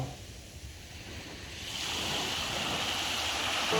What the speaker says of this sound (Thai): นั่งฟังเสียงคลื่นบนพื้นทราย